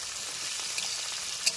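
Tomato and fenugreek leaves fry in a pan, giving a constant, close hiss of sizzling oil with a couple of sharp pops near the end and no talking.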